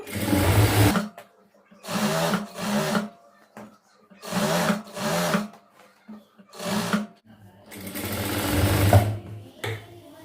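A sewing machine stitches a chudidhar in several short, loud mechanical runs, each lasting about a second, separated by brief pauses as the fabric is turned.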